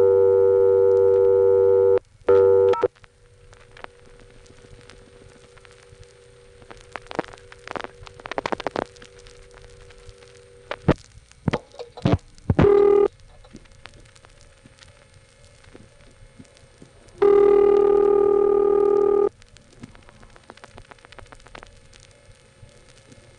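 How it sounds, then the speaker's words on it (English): NX1 coin-controlled payphone from the 1970s: a steady dial tone, then repeated dialing of zero with bursts of touch-tone and clicks, first without a coin and then with one, and a longer tone near the end. "here's the sound of Dave picking up a phone and trying to dial zero"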